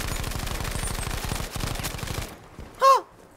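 Rapid automatic gunfire from hip-firing in Battlefield 5 rattles in close bursts, pausing briefly before a second burst, then dropping away to a short electronic tone.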